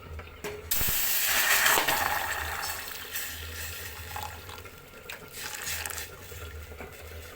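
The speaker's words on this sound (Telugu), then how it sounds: "అదే ప్యాన్ పెట్టుకొని ఇప్పుడు పాలు వేసుకుందామండి" Milk being poured into a pan while making vermicelli, a steady liquid splash and pour with faint kitchen mechanical clicks, close and moderately loud, with no talking.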